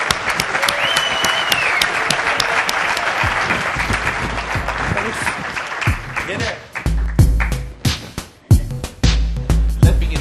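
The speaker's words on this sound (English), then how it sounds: "if we applaud long enough" A conference audience applauds, a dense, loud wash of many hands clapping that thins into scattered, uneven claps and then returns in bursts.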